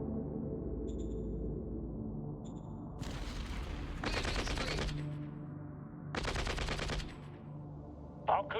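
Automatic gunfire rattles in a military strategy video game, with several sustained bursts of rapid shots over a steady low rumble and faint beeps.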